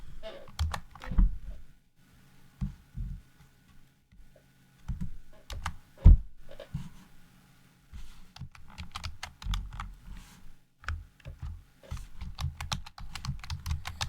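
Keyboard shortcuts tapped out on a computer keyboard, with scattered clusters of crisp key clicks and presses separated by brief pauses, close and moderately loud.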